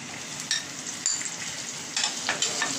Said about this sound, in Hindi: ऑयल गर्म हो गया इसमें मैं अदरक डालूंगी और ये हरी मिर्ची डालेंगे जो मसाला भरी थी